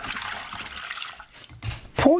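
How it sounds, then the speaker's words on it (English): Ackee fruit rinsed under a running tap, heard as a short, uneven stream of water splashing and gurgling, ending in a sharper burst. "Now rinse the ackee under fresh running water."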